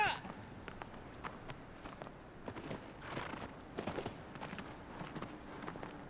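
Agro the horse canters in the Shadow of the Colossus video game, with steady, rhythmic hoofbeats at moderate volume over a low game background for several seconds.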